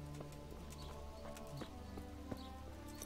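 Horse hooves clip-clop at a steady walking pace in the medieval game Kingdom Come Deliverance, with moderately close, evenly spaced strikes over a low ambient bed.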